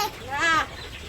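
Chickens on a farm cluck in a short burst while being fed, a brief rising call standing out over faint background noise.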